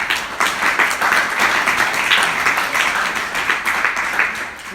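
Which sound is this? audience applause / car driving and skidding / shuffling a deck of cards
audience applause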